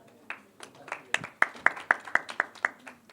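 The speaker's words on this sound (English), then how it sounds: "a huge round of applause to all the designers" Rhythmic clapping at a fashion week event, about a dozen sharp, evenly spaced claps that grow firmer after a scattered start, fairly close and otherwise quiet.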